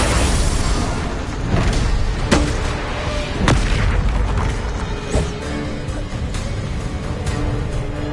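Bombarda spells explode in Hogwarts Legacy, several separate heavy booms spread a second or so apart over a continuous rumbling battle din.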